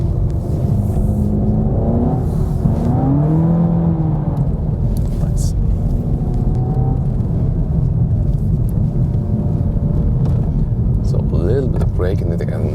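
A 300 hp all-wheel-drive Seat Leon ST Cupra with DSG drifts through a corner on snow and ice, its engine a steady loud drone beneath continuous talk from inside the car.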